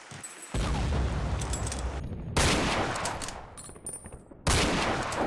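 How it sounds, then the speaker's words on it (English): Rifle fire and explosions in The Trenches, a Half-Life mod, come in three loud booming bursts with crackling gunfire and long rumbling decays, with no talk. "The sounds were great for all the explosions and the rifles."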